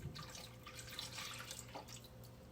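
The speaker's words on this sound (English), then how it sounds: "I'm going to add my milk." Milk pouring into a bowl of pumpkin pie filling made from a grandmother's recipe, a steady liquid trickle and splash running throughout, close and fairly even.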